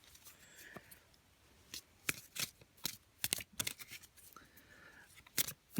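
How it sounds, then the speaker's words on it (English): Tarot cards riffle-shuffled in several quick bursts, each a crisp rapid fluttering burr followed by a soft bridge, close and fairly quiet with pauses between. "Well, let me riffle, shuffle,"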